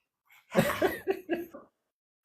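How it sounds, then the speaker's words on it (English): A short run of coughs, four or five quick harsh bursts close up, then quiet. "if I'm coughing behind the scenes, it's because I'm getting over a cold"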